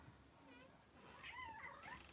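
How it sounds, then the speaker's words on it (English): A pet cat meows faintly in a room, a drawn-out wavering meow under a low background hiss, with no talking. "That's my cat, by the way."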